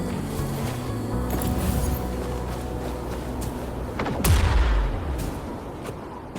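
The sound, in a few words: explosion blasting an opening in Wuthering Waves video game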